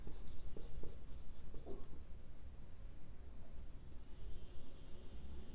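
A pen writing accounts entries on paper, close scratchy strokes in quick irregular bursts, steady and fairly loud, with no talk over them.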